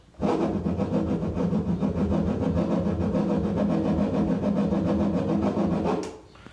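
Slow turntable scratching on a vinyl record: a low, steady scratching drone with a rapid rough pulsing texture, continuous for several seconds before cutting off, loud and close.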